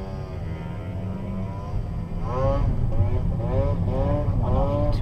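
A motorcycle passes on a street in Bulwell with its front wheel lifted in a wheelie, its engine note rising and louder from about two seconds in over steady traffic rumble, while someone talks nearby.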